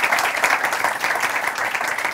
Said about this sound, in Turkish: Özge'nin ilk YouTube programı olduğu için onu bir daha kuvvetli alkışlamamız gerekiyor.